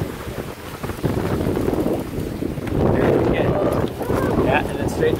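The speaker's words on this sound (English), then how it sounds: "Here's a little puff of wind, so we just ride it out." Wind blusters across the microphone aboard a small sailboat on open water, a steady low roar that swells louder midway through, with water sloshing underneath and no talk.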